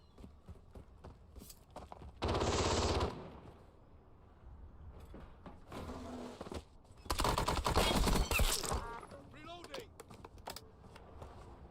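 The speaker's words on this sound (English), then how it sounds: "we have some gunfire up ahead." Bursts of rapid gunfire in the game Warzone crackle at a distance, two louder sustained volleys among scattered shots, with clicking and faint background noise.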